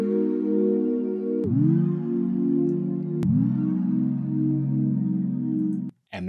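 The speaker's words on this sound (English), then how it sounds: "this is the magic trick to getting like that pitch bending sound to the chords" Synth chords from Serum in a UK garage style, each struck chord sliding down in pitch through a bend envelope; three sustained chord hits, loud and alone, ending in a brief cut.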